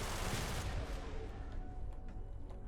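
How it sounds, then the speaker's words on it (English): A loud, booming explosion from the space combat game Everspace, a dense rumbling blast that swells early and then decays into a ragged roar over a few seconds, with no talking. "Watch the explosion here."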